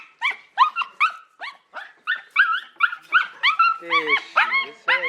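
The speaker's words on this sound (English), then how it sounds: "And there's my other two dogs over somewhere." A dog gives a rapid series of close, high-pitched whimpers, yips and short barks in a home, the sounds coming in quick bursts that grow denser toward the end, with talking around it.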